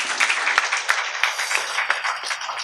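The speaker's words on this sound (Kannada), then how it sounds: "ಜೋರಾಗಿ ಅವರಿಗೆ ಒಂದು ದೊಡ್ಡ ಚಪ್ಪಾಳೆ ನಾವು ಕೊಡೋಣ" Audience applause for Dr. Densil at the inauguration of the Divyajyothi clinic: a steady, dense wash of many hands clapping together for nearly three seconds, moderately loud and without talk.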